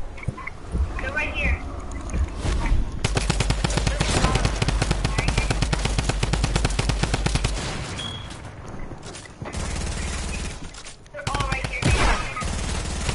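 Rapid automatic gunfire in a video game shootout, dense and continuous bursts through most of the stretch with brief pauses, while players talk over it.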